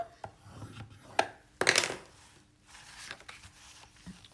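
Paper is punched and scored on a gift bag punchboard: a few sharp clicks and a louder crunching punch, then soft rubbing and sliding of the paper, close and quiet.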